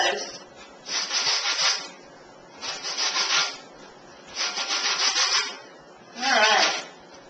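Lemon rind scraped against a zester, four even rasping passes separated by short pauses, close and clear, with a voice talking faintly under it.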